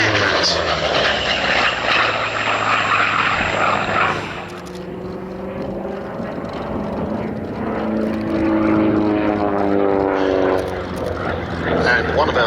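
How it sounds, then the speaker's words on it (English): A Grumman F8F-2P Bearcat piston-engine fighter flies a display at the Duxford Battle of Britain air show, a loud, steady engine drone with a shifting pitch as it passes, continuing under a commentator's voice. "another representative of the ultimate in piston engine fighter technology. Here comes the F8F-2P Bearcat."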